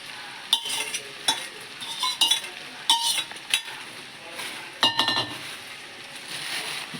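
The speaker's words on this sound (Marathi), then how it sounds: "सगळं असं ढवळून घ्यायचा, एक जीव करून घ्यायचा." Cooked rice with peas is stirred in a pot with light sizzling underneath. Several distinct scraping, clinking strokes of the spoon stand out against a steady hiss, close by and with no talking.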